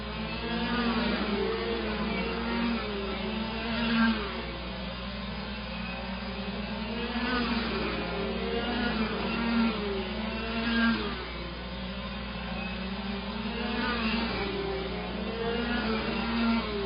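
Sportsman race cars roar around a dirt oval during an A-main feature, a continuous dense engine drone with rising and falling swells as the pack circles, steady and fairly loud.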